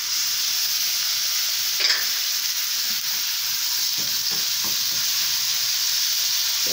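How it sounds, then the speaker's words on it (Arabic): A spoon stirs dried molokhia in a hot pan, a steady loud sizzling hiss with a few scraping knocks of the spoon, close and with no voices. "قلبي حلو عشان ما تتحرقش"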